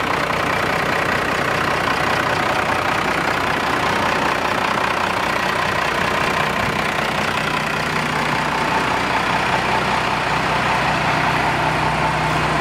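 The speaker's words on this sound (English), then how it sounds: "I love the 12-valve motor." A Dodge 2500 4x4 with a 12-valve diesel engine idling steadily after a cold start, a loud, continuous clattering rumble heard close up in a showroom.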